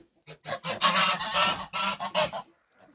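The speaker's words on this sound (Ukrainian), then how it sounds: "Так, гуси, як завжди, підкрикують." Geese honk loudly and repeatedly in a noisy cluster of harsh calls, close by, before trailing off into quiet.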